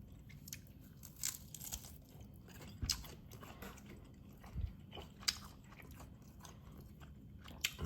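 Crispy air-fried food topped with hot sauce is bitten and chewed close up. Quiet, irregular crunches repeat throughout.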